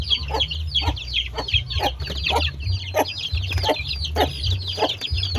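One-month-old chicks cluck and peep constantly while pecking at feed, a dense, busy chorus of short calls close by, over a low steady background hum.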